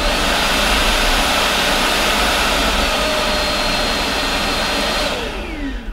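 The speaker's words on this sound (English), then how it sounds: "I'm not sure if you heard the suction level change, and that's part of their smart technology." A Tineco Pure One S12 cordless vacuum cleaner runs with a loud, close, steady high-pitched whine and airy roar, then its pitch sweeps downward as the suction level changes near the end.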